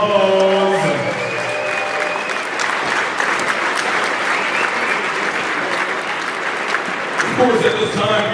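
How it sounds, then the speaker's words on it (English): An audience at the CCAA Women's Volleyball National Championship gold medal match breaks into loud, sustained applause that swells and then fades, with cheering and voices mixed in and a speaker briefly heard at the start and end. "give yourselves a round of applause"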